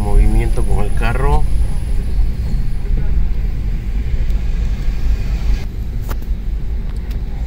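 A car drives through Zone 4 of Guatemala City with steady low road rumble and wind noise from inside the moving vehicle. A brief voice-like sound comes early, and a few faint clicks and knocks follow later.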